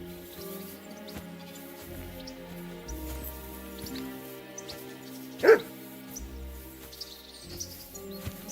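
One sharp bark from a dog in Kingdom Come: Deliverance 2 stands out midway through an otherwise calm bed of ambient game audio and soft music.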